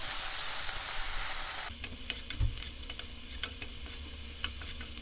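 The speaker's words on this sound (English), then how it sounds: "Now you have to allow the spring onions to be cooked in the spices" Spring onions cooking with turmeric and red chilli powder in a pan, an initial dense hiss giving way to a softer sizzle with sharp stirring taps and spatula clicks.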